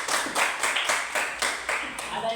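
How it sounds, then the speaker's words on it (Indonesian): A classroom of students claps briefly in a quick, rhythmic series of about eight slaps. The clapping sounds thin and close, and a teacher speaks over it. "Oke, berikan aplaus."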